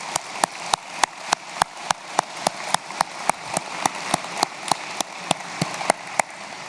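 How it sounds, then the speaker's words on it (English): Steady, evenly spaced claps ring out one after another at a championship breakfast for student athletes, crisp and fairly close with no voices over them. "Big round of applause."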